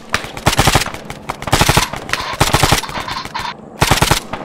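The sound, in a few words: machine gun fire in a military video game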